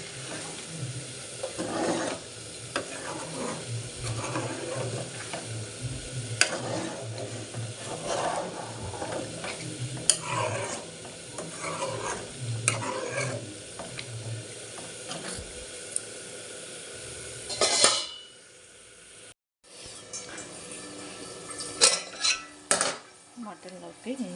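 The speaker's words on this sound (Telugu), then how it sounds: "ఫ్రై చేసుకుంటున్నాను" Food frying in a pan is stirred with a metal utensil, producing repeated clinks and scrapes over a low sizzle, close and continuous, with a brief pause near the end.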